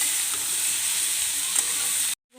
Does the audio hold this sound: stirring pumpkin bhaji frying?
yes